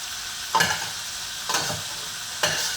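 Cabbage soup with onions cooking in a pot, a steady sizzling hiss with three distinct stirring scrapes spaced about a second apart, close and fairly loud.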